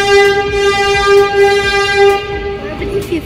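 A New York subway train in a station, its loud steady tonal whine and rumble filling the space continuously, with faint voices underneath.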